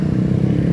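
Motorcycles rumble past nearby on a busy street beside a parking lot in Glodok, Jakarta, a steady low engine drone with faint clatter and no talk over it.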